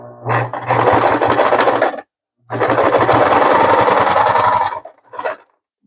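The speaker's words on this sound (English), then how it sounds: "back stitched a bunch over that D-ring because I don't want that to ever come loose" A sewing machine running in two long close bursts and a brief final one, rapid mechanical stitching as it back stitches repeatedly over a D-ring on a sunflower crossbody bag.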